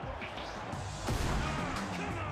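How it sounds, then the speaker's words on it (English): Glass shattering in the snowboarding video game SSX, a sharp crash landing midway through a busy mix of game noise and a rushing whoosh, fairly loud and close. "Love hearing the glass break on them."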